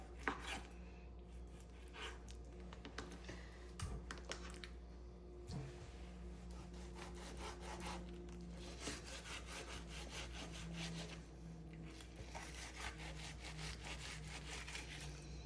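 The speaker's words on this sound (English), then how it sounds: "It's easy to put your knife through on the bottom, and then don't cut the skin" A knife slicing through a raw salmon fillet, quiet repeated rasping strokes against a cutting board over low background hum.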